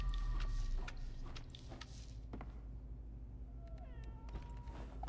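Cat meowing in a video game, a few short, rising meows heard over a steady low game ambience, moderately near and fairly faint.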